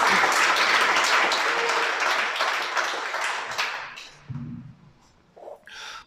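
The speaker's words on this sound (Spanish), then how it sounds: "Un aplauso al Señor que mandó pastores." Congregation applause during a Spanish-language Torah teaching, loud sustained clapping that gradually thins and fades, followed by a few scattered breaths and small noises in the quieter tail.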